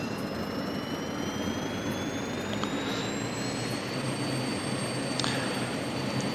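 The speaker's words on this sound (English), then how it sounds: "And now the engine can spool up all the way." An SK60 jet engine spooling up during a cold start in the DCS flight simulator, a steady loud turbine roar with two whining tones rising slowly in pitch, no talking.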